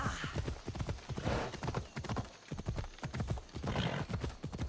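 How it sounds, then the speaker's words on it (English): Horse hooves gallop in a steady, rapid clip-clop rhythm during a ride in Assassin's Creed Odyssey, loud and close, with the mount briefly whinnying and game ambience underneath. "Let's ride, horsey, ride!"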